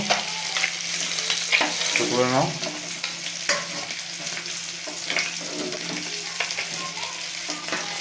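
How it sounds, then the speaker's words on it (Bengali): Katla fish frying in hot oil, a dense close sizzle with spatula scrapes and turning clatters throughout, and a short spoken remark partway through. "মাছটা এখন পুরোটা ভাজা হয়ে যাক"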